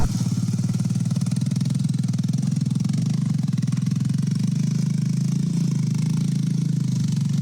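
A fully loaded motorcycle labours up a steep mountain road toward the village of Dronagiri, its engine a steady, close, low thrumming chug that stays even throughout.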